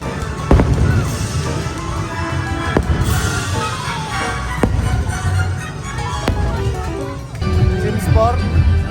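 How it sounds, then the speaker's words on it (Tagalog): Fireworks booming and crackling at Disney World, sharp distant bursts repeating over crowd noise while people talk nearby. "nagpa-fireworks na guys!"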